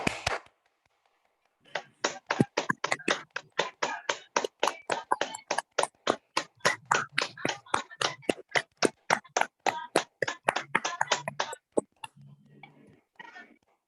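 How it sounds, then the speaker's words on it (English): A group clapping as loud as they can in a morning session, a dense run of sharp, rapid hand claps that keeps going for about ten seconds, then stops. "when I say start, you will all start clapping as loud as you can"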